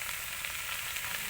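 Chopped young jackfruit frying in a pan with sautéed spices, salt and turmeric, a loud, steady close sizzle and crackle with no pauses and no voices.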